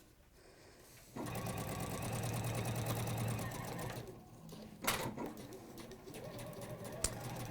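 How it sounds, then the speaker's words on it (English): A Juki sewing machine stitches through several layers of leather for a bag, running in a steady continuous whir for about three seconds, then easing into quieter, uneven mechanical clatter with a couple of sharp knocks near the end. "just watch this Juki go through all those layers"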